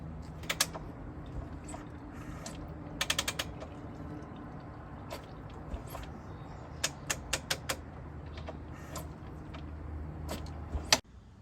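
Honda XR400 dirt bike being kickstarted to pump out excess oil: a few scattered mechanical clacks and ratcheting clicks from the kick lever, some in quick clusters, over a steady low background hum.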